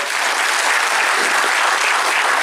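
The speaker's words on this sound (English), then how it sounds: "let's give a round of applause to them" A conference audience in Pune breaks into dense, even applause after a presentation, a brief burst of many hands clapping with no speech.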